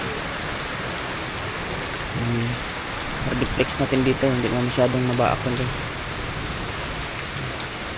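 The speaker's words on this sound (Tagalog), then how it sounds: "Grabe yung ulan." Steady heavy rain hisses throughout, with a person speaking briefly in the middle over the downpour.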